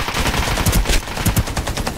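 Rapid bursts of automatic gunfire from the battle royale shooter Ring of Elysium, loud and close, with irregular clusters of shots and sharp cracks repeating across the moment.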